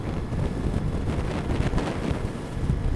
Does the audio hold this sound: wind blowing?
yes